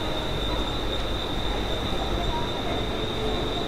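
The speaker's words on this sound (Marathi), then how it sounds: "तर ही बदलापूर लागलेली आहे ट्रेन आता, आणि आपण आता बदलापूरला जाणार आहोत." A Mumbai local train bound for Badlapur stands at CSMT station, giving off a continuous loud rail rumble with a steady high squeal or whine over it, close by and with no talk.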